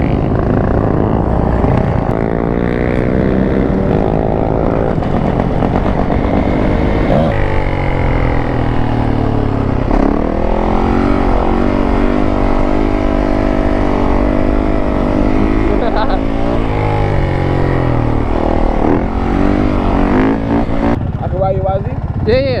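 Custom 130hp Yamaha Banshee ATVs ride by at close range, loud revving two-stroke engines with rising and falling pitch that overlap continuously, with voices talking underneath.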